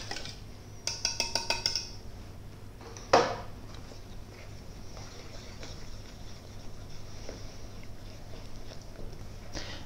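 Homemade bread dough, no kneading and no machine, as dry ingredients are stirred into wet ones in a bowl: a quick run of light clinks, one sharper knock, then soft faint scraping and stirring sounds.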